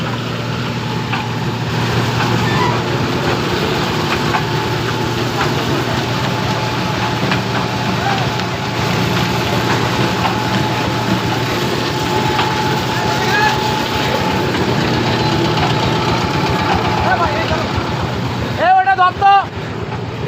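Mustard oil pressing machines run continuously in a factory showroom, a steady dense mechanical drone with a low hum and tonal whine, loud and unbroken for most of the stretch before a short clatter near the end.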